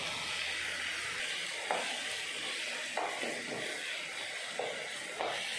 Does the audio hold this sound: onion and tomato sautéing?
yes